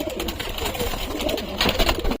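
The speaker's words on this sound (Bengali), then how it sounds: "এই যে পায়রা ছেড়ে দেওয়া হলো" A pigeon is released from a loft, with close bursts of fluttering wings and soft cooing, louder flapping near the end.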